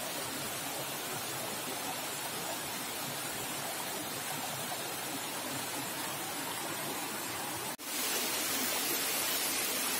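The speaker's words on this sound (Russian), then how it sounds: "Как раз начало водопада очень красивое, шумное." A noisy waterfall at the head of a rocky gorge in the Carpathians gives a constant, loud broadband roar of rushing water, close by and unbroken, with a brief dip near the end.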